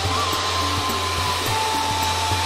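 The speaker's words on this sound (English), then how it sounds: "put the hair dryer down" A hair dryer blows continuously with a steady, close-up whirring drone and a low hum, running without pause.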